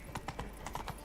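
Horse hooves clip-clop in The Witcher video game. Quick, regular hoof beats come about eight in a second, fairly quiet and close, over a faint background.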